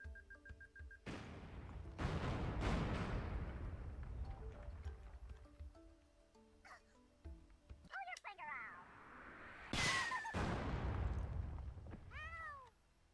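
Grenade explosion in Worms 4 Mayhem on Xbox, with a few sharp, loud blasts scattered among cartoonish game effects and meow-like cries, while a player talks excitedly throughout.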